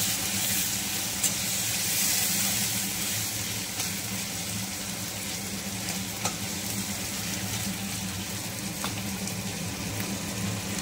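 Tomato and whole green chilies sizzle in a frying pan while a sole-fish curry is cooked, giving a steady, close frying hiss with occasional pops and stirring scrapes throughout, no talking.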